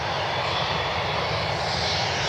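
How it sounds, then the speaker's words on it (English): A Gulfstream business jet inbound to land at Cleveland Hopkins airport makes a loud, steady engine roar that holds with no break, heard alone and close. "Got another business jet inbound, looks like the Gulfstream."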